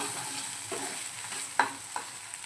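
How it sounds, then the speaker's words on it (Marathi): Masala for paneer matar being stirred and sautéed in oil as the oil starts to separate, with a soft background sizzle and a few sharp spoon scrapes against the pan. "मसाल्याला पहा तेल सुटायला सुरुवात झाले। एकदा आपण परतवून घेऊया।"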